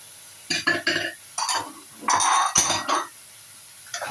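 Squid stir-fried in a pan with ginger and garlic, a spatula scraping and clinking against the metal in quick close strokes and bursts over a faint background hiss.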